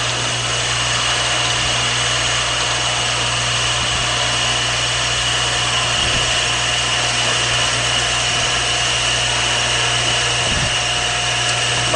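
A Shopsmith lathe fitted with a lathe duplicator turns a taper, giving a steady, loud motor hum with a constant low drone and broadband whir. The tool scrapes continuously throughout, with a few faint low thumps and no talk.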